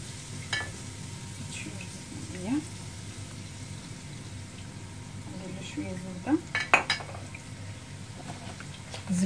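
Stuffing for chicken breasts cooks in a pan for a keto meal, with soft sizzling, stirring and a few sharp clinks of utensils against the pan, and a person talks intermittently over the kitchen sounds.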